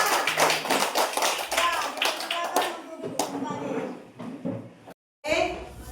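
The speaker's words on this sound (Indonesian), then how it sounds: "Oke, tepuk tangan untuk kita semua." A classroom of children applauds in a brisk burst of dense clapping at first, thinning into scattered taps and children's voices before a brief silence and a teacher speaking.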